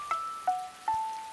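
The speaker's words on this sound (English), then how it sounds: "The rain is drip-dropping through a hole in my roof." Rain drips through a hole in a roof in an animated children's show: three clear, close, cartoon-style plinks land one after another at an even pace.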